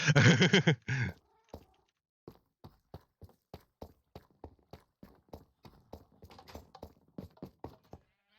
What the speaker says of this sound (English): Look at that cat. It's sitting on the chest, so I can't open it.